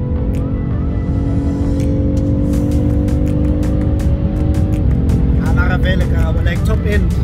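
A BMW F80 M3 driving at speed, its loud steady engine drone and road roar filling the cabin throughout, with rising engine pitch and some clicking toward the end.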